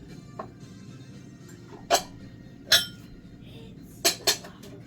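A Thai-style bowl is pulled from beneath a stack of dishes in a kitchen, with several sharp ceramic clinks and clatters, two close together near the end, against a quiet background.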